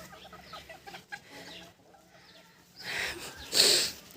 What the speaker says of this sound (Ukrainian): Ти подивись на цих півничків